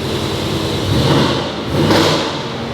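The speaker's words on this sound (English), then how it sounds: "I'm just trying out my exhaust valve. Can you hear much of a difference?" A car engine revs up twice through an opened exhaust valve, rising and falling in two swells over a steady low rumble, close and loud.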